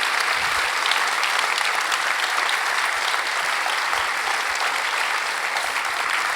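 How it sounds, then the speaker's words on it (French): Dense, loud applause from a conference audience for Eric Larchevêque after his talk, a continuous wash of clapping that holds steady throughout. "tonnerre d'applaudissements pour Eric Larchevêque"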